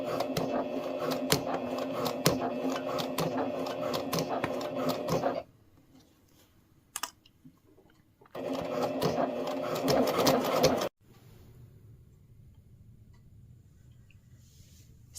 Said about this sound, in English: we are going to sew a scant 1/4 inch seam around